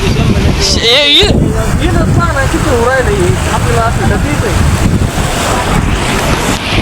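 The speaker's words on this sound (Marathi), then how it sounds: "हे पहा पूर्ण मोऱ्या सोडलेलं आहे एकदम पाणी" A steady, loud roar of water rushing from fully opened gates at Paithan's Nath Sagar dam fills the whole clip, with someone talking over it nearby.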